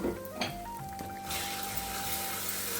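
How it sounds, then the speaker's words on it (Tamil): Ground tomato and garlic paste hits a hot pan of sautéing onion with a sudden loud sizzle that swells into a steady, bright frying hiss, no voices. "நம்ம வந்து இந்த தக்காளி பூண்டெல்லாம் அரைச்சி வச்சோம்ல அதை விட்டுக்கலாம்."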